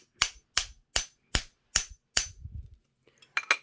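Six evenly spaced sharp metallic hammer strikes ring out on a bolt to press a nut out of a domestic treadle sewing machine part, followed by softer clinks and two quick final taps.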